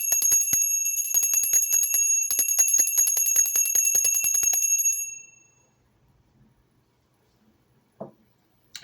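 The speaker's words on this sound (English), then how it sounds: "I also will be ringing the bell" A small bell rings rapidly and continuously for about five seconds, then stops and fades, leaving near silence with a faint bump at the end.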